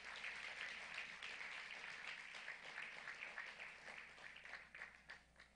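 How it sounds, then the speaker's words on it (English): Audience applause at a lecture, a faint and fairly distant patter of many hands that stays even at first and thins into scattered claps toward the end. "I think you can give them a round of applause."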